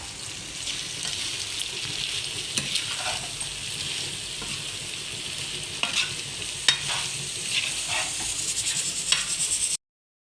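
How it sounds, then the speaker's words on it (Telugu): A curry with green chillies and coriander-cumin powder is stirred as it fries in a pan, giving a continuous close sizzle broken by scattered scraping and clinking strokes. "ఇవి బాగా కలిపేసుకుందామండి."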